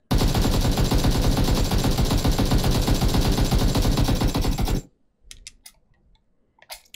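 Sustained automatic fire from an AKM rifle in a video game, fired from a crouched position at close range: a dense, loud burst of rapid shots for nearly five seconds, then a few faint clicks and small sounds.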